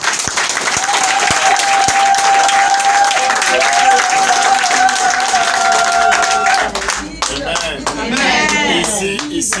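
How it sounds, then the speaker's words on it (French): A church congregation claps steadily for several seconds, dense and sustained, with voices rising over it before the applause fades into talk. "Il faut applaudir à Dieu."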